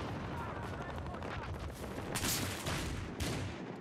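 Semi-automatic gunfire in the video game Battlefield Hardline during multiplayer conquest: dense crackling shots and booming bursts fill the whole stretch, loud and continuous, with a couple of sharper blasts standing out.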